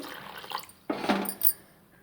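Water splashes briefly into a bowl of buttermilk dosa batter, a short close pour with a soft liquid slosh.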